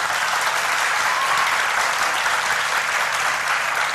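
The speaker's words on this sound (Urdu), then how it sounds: "ذرا تالی بجا کے دکھائیں" Studio audience at a live Ramadan iftar television show applauding on cue, a steady, dense wash of many hands clapping at even loudness throughout with no talk over it.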